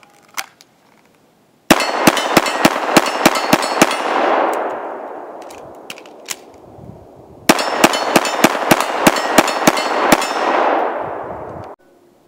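Rapid handgun fire from a .45 ACP pistol at a shooting range, two loud strings of about eight sharp shots each with ringing echoes trailing after, separated by a short pause.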